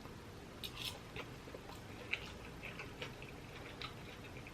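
Someone chews a bite of red enchiladas, giving faint, close, irregular crunchy clicks and soft mouth sounds over quiet room noise.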